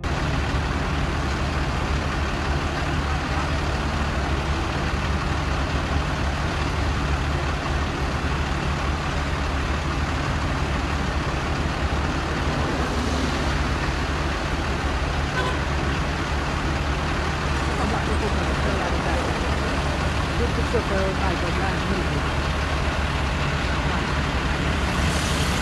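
Heavy road traffic in Martissant, with a police armored vehicle and goods trucks rolling past, makes a continuous loud rumble of engines and tires for the whole stretch.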